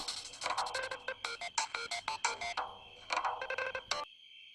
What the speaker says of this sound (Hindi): सेजल, देखना किसका फोन है।